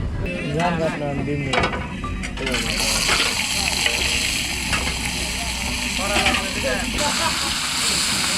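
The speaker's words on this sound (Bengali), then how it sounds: "আমাদের মাছগুলো সব ভাজা হচ্ছে এখন" Hilsa fish frying at a riverside eatery, a steady loud sizzling hiss that swells after a few seconds of people talking, continuing under background voices.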